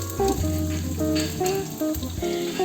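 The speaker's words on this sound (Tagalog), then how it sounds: "pwede na po nating igisa yung mga ingredients natin guys" Ingredients sautéing in hot cooking oil in a wok (kawali) for white beans with shrimp and vegetables, a steady close sizzle with stirring scrapes, with a melodic tonal background running throughout.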